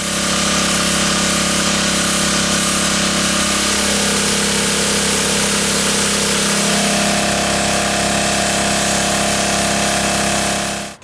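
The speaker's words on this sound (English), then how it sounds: "Now we're going to power wash it a second time and get all the grime off." Pressure washer blasting grime off a carved granite rockface after an acid wash, a loud, steady engine-driven roar with broad hissing spray that runs unbroken for the whole stretch before cutting off abruptly.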